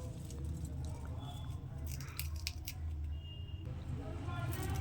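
Quiet crackling crunches of crisp fried puffed rice (murmura) being crushed by hand, with a few brittle bursts clustered in the middle.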